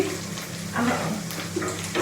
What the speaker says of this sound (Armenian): հիմա գդալը մի հատ խառնեմ, քանի որ տոմատոտ է և պիտի գդալն էլ մաքրվի